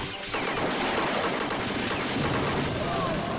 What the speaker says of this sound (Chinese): 我又捡到了一种新型的手雷，这不应该说是手雷了，应该说是榴弹枪